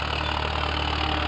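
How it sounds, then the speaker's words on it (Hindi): A Farmtrac 6055 tractor engine runs at a steady idle, a close, continuous low rumble with even vibration and no voices. "हाँ दादू, ट्रैक्टर।"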